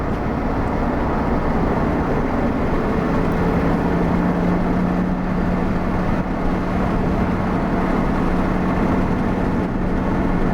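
An Aston Martin DB7 being driven after years of storage, on square-set run-flat tyres: a steady, loud engine and road drone with a low hum, continuous throughout and with no voices.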